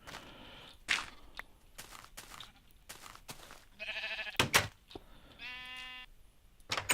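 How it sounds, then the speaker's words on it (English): Blocky sheep in the Minecraft video game bleat several times in short, tonal cries, mixed with footsteps and clicks from the game, with no talking. "You silly sheep,"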